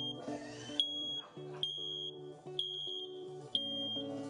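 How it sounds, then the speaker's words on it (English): A smoke alarm beeps insistently in repeated high-pitched bursts, mixed with a jumble of other tones in the room. "That smoke alarm was still going off."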